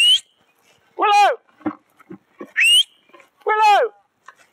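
A person whistles to call a young Exmoor stallion on a farm, giving two rising two-note whistles close by, each followed by short bursts of other sounds.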